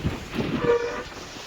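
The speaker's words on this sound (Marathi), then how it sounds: "तिकडं बघा किती रेल्वे चालली अजून लांब" A long train rumbles past in the distance on a rainy morning, its wheels clattering and a brief horn-like tone rising above the steady roar.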